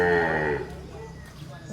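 A newly arrived water buffalo (carabao) at a livestock market gives one low, drawn-out moo that fades. Quieter market background noise follows.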